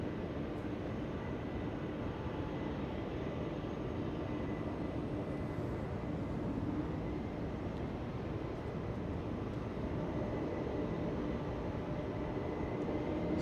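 A Swiss airliner arriving at Los Angeles airport on its flight from Zurich, heard as a steady broadband jet roar that holds constant throughout with no voices over it.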